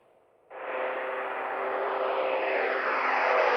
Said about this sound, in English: Dr. Gundabda decided to airlift Denise to Shands Hospital's Pediatric Intens